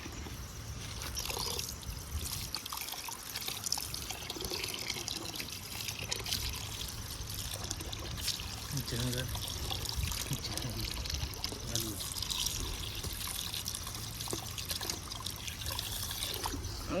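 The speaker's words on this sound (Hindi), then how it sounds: "भैया मेरे हाथ में डाल दो पानी।" Water poured from a container onto someone's hands outdoors in a village, a steady close trickle and splash running throughout under broad background noise.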